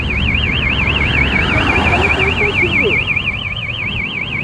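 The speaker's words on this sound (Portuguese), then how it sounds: "Esse alarme." A car alarm wails in a steady, loud, close warble that rises and falls evenly without a break, with low road or rain noise underneath.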